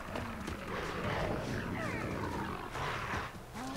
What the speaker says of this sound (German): Ich höre irgendwie einen Jaguar oder so.